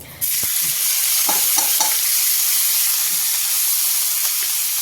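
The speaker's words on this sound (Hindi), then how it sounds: "प्याज को फ्राई करेंगे।" Onions hit hot oil in a kadai with a sudden loud surge of sizzling, then a steady, bright frying hiss with a few light stirring clinks.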